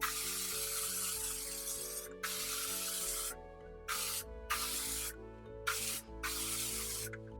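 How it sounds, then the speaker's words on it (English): Hairspray sprayed in several bursts of varying length, separated by brief gaps, fairly close, over faint background music with no talking. "hairspray though, hairspray, come on."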